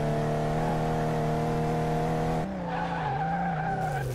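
A Jeep Grand Cherokee SRT in a racing video game accelerates on a track, its engine droning steadily before a sudden shift in pitch and a wavering, skidding note as the tires lose grip.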